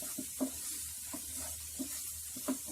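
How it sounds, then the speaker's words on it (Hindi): Mutton pieces frying in a pan with ginger garlic coriander paste, soft steady sizzle under a rhythm of spoon strokes scraping and knocking every half second or so. "इसे अच्छे से भूनने के बाद अब हम गोश्त के पीसेस को इसके साथ मिक्स कर देते हैं।"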